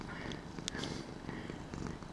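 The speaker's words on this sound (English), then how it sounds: "No, he's purring too loud." A cat purrs close by, a soft, continuous rumbling purr that is quite loud for its size, steady throughout with no talk.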